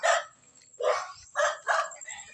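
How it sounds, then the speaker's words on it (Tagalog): Several sharp dog barks in quick succession, loud and close, with short pauses between them. "Daming aso."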